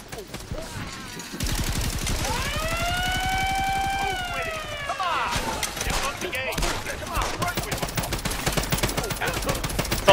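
Rapid automatic gunfire rattles almost nonstop in the blocky online shooter Block N Load, loud and close, with a rising siren-like tone sweeping over the shots partway through.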